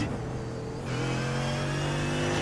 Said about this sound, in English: Now I can hear from the engine noise on board.